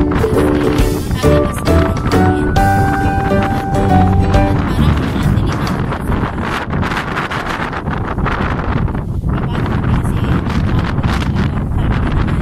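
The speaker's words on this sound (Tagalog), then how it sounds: "Sobra na malakas ang hangin" Strong wind on a mountain hike at High Junk Peak, Hong Kong, buffets the microphone with loud, constant roaring gusts, while faint music plays in the background early on.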